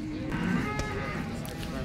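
Cows lowing at the Baramati cattle market in a busy open-air setting, with a sustained close moo over crowd murmur and background voices.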